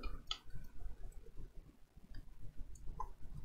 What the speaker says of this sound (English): Oh, I'm right clicking the block.